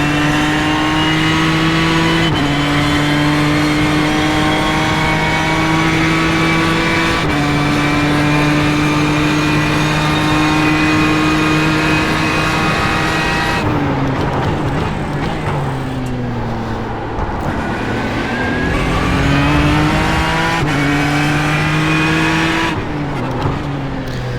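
A simulated race car in iRacing screams at high revs through upshifts, with stepped pitch climbs, sharp downshifts into a corner, tire squeal and then a renewed climb, loud and continuous with no talk.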